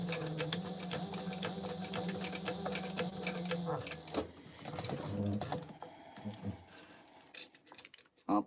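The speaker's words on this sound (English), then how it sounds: "Oh, I hear my bobbin." Sewing machine stitching a boxy crossbody bag, a close rhythmic mechanical whir with regular needle ticks, then stopping into scattered clicks and handling sounds.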